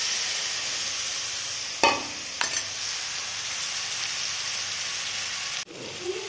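Paste of chili, cashew, cumin and coriander dropped into hot oil for a fish curry, a steady close crackling sizzle with a couple of brief clattering knocks of a utensil, ending with a short cut.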